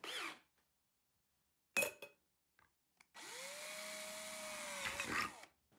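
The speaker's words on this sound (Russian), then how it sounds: "В крышках проделываем отверстие небольшого диаметра." A small power drill bores holes in metal jar lids, with short bursts of tool noise followed by one sustained whirring run of a few seconds that ends with a brief rattle.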